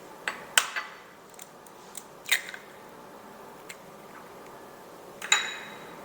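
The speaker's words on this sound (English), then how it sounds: "I always crack my eggs in something different," Eggs cracked one at a time into a shallow bowl while making pound cake French toast: a few sharp, faint cracks and taps spaced apart in a quiet kitchen, with no talking.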